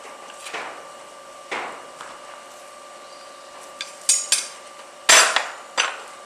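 Hammer striking hot metal on an anvil while forging a square corner, a few sharp ringing blows spaced irregularly, with a quick cluster near the end, close and clear with quiet gaps between.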